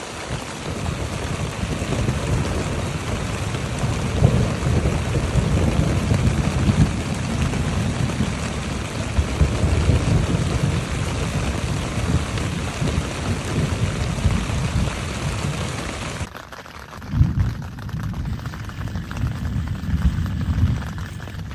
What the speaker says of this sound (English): it started raining again, so back into the tent I go